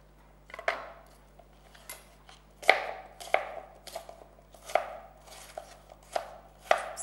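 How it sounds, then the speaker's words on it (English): A knife chops on a cutting board in a steady series of sharp, close knocks, repeated about once every half second. "Cut it into any small pieces"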